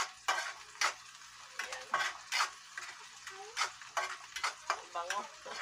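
Garlic sautéed in a pan for a crab dish in coconut milk, with rhythmic spatula scrapes and clinks against the pan over a light sizzle, close up, as a voice briefly speaks.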